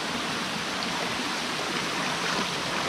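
Constant rushing hiss of a waterfall more than twenty metres high beside an abandoned mine, steady and moderately loud throughout with no talking.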